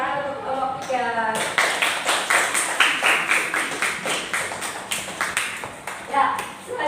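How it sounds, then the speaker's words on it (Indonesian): A classroom of students claps for a group after its presentation, with a steady run of fairly close, overlapping hand claps that swell and continue for several seconds, and some voices murmur underneath. "beri tepuk tangan untuk kelompok 3"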